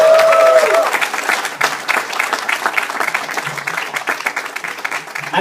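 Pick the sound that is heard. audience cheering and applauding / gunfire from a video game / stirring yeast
audience cheering and applauding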